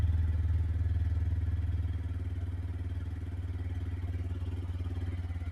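A second-hand motorcycle engine idles steadily after starting, a close, loud, even thumping beat with a slight drop in level about two seconds in, with no talk over it.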